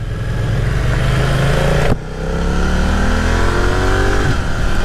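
A 2020 BMW F900R Sport Style roadster motorcycle engine revs loudly and steadily up close, with a brief dip in pitch and level midway before climbing again; no one speaks.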